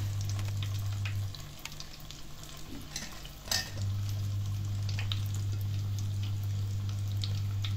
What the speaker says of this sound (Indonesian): Goreng.